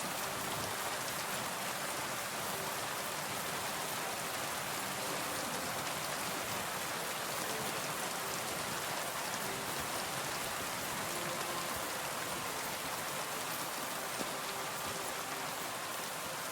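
Steady rain pours in Kingdom Come Deliverance 2, a broad continuous hiss of drops striking the ground that stays level and unbroken for the whole stretch, with no voices over it.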